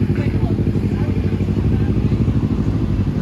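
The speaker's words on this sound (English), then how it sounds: "There's always motorcycles and cars here." Engine noise from passing motorcycles and cars on a street in Ottawa's ByWard Market, a loud, steady rumble close by that fills the whole stretch.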